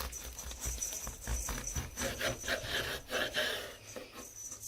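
A knife saws through a loaf of raisin walnut batter bread in quiet, close, rhythmic back-and-forth rasping strokes, with no talking.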